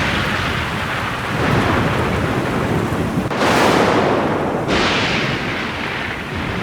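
Heavy rain pours steadily while rolling thunder swells and crashes twice, loud and close, in a stormy scene from a drama series.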